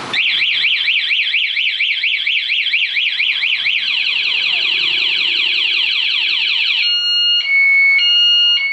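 A ZoomerX scooter's anti-theft alarm blares continuously after the lock button is pressed, cycling through a rapid warbling whoop, then a descending repeated chirp, then steady alternating two-tone beeps, loud and close with no talking.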